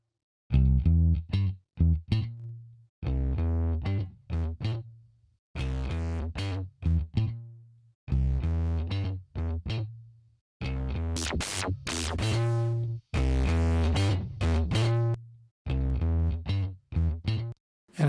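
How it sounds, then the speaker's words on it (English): Short, punchy synth or bass phrases are heavily distorted by the iZotope Neutron 4 distortion plugin, repeating in chopped bursts with gritty, saturated tone and occasional harsh bright spikes. "You also have some general distortion controls here."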